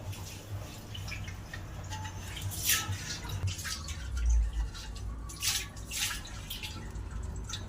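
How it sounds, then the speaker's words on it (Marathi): Water sloshes and drips inside a clay water pot as it is rinsed, with scattered splashes and trickles, fairly close and moderately loud, no talking. "मी याच्यामध्ये थोडंसं पाणी टाकून घेणार आहे आणि पहिले दोन वेळा स्वच्छ असं पाण्याने धुवून घेणार आहे"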